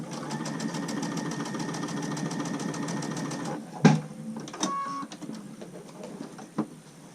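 A sewing machine stitches fabric strips for a PPE mask at a quarter-inch seam, running steadily for a few seconds before stopping, then a sharp clunk and light handling clicks.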